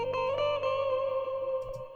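A high, sustained guitar tone pitched up an octave, with bright harmonics, played steadily with a few soft note changes and light percussive plucks.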